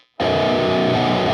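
Heavily distorted electric guitar riff from the chorus of a song, played slowly; a brief silence, then a loud, dense chugging wall of overdriven tone.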